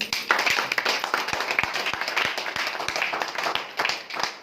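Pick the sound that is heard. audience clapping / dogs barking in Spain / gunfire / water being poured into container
audience clapping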